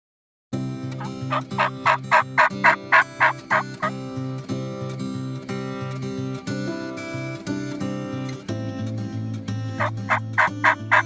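Rapid bursts of wild turkey gobbling ring out over a steady tonal backdrop, two clear gobble runs separated by a pause, moderately loud.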